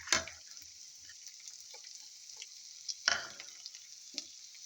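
Onions hit a little oil in a pan for an eggplant and yogurt dish, giving faint sizzling with a few sharper crackling bursts at the start and near the middle over quiet background.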